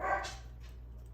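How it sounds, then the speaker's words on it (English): A single short dog bark close to the microphone, indoors at a home crafting table, followed by a faint trailing yip over a low steady hum. "I don't know why she's barking."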